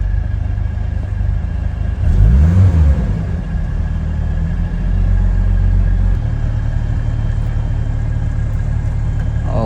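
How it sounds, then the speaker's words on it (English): Close-up 1989 Toyota Supra MK3 7MGTE running at a low idle, with one quick blip of the throttle early on before it settles back to a steady, throbbing rumble. "RPM is mad low. Let me rev it up a little."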